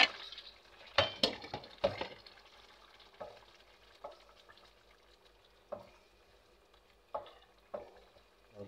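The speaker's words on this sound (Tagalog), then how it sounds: "bumubula na yung aking niluluto" Sardines with malunggay cook in a pan, giving a faint, steady sizzle broken by sharp clinks and scrapes of a utensil against the metal, some close together early and others spaced out, with no talking.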